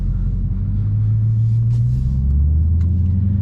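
A Dodge Challenger Hellcat heard from inside while driving, a deep steady engine rumble with a low drone that shifts pitch as the car moves, loud and continuous with no talking.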